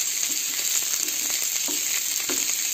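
Green chillies, garlic cloves and ginger sizzle and fry steadily in a hot pan for green pea chutney, with faint stirring scrapes close by and no voices.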